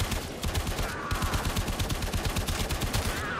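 Rapid, steady automatic rifle fire in Warframe, a continuous rattling stream of shots that keeps a fast even rhythm throughout, loud and close with no talk.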